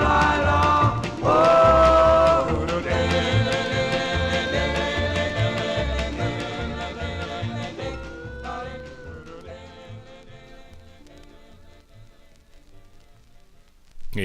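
Doo-wop vocal group record from 1957, lead voice over harmonizing backing singers and a band, playing steadily loud then gradually fading down toward the end.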